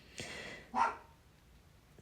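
Frances, a little 10 to 11 pound dog, lets out two sharp barks in quick succession, fairly close and alone in a quiet room.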